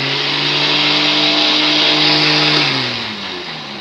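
An electric blender grinds green chutney ingredients with water, a loud steady motor whine that holds, then slows and winds down near the end.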